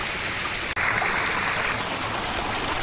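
Rushing water from waterfalls pours steadily in a dense, continuous wash with no voices, broken only by a single instant dropout near the start.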